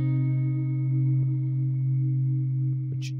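Electric guitar through a chorus modulation effect, a single sustained note ringing steadily with gentle shimmering motion, alone and moderately loud.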